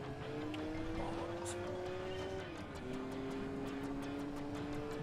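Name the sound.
Peugeot car driving in Gran Turismo 4 video game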